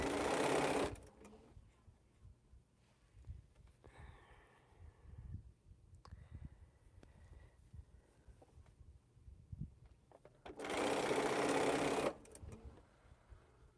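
A home sewing machine runs in two loud, steady bursts, one at the start and one near the end, stitching small quilt pieces for mini pinwheel blocks, with quieter handling and rustling between the runs.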